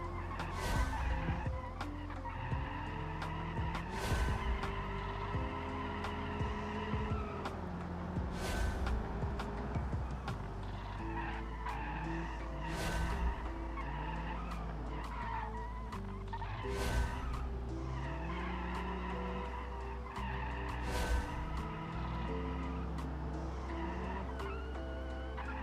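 Race car tires squealing and skidding through understeer in a racing video game, repeated drawn-out screeches rising and falling over a continuous engine drone, with several distinct squeal bursts spread across the stretch.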